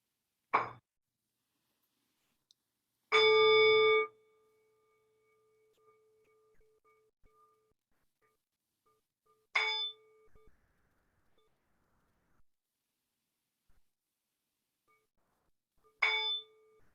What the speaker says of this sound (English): You can listen to the sound of a bell.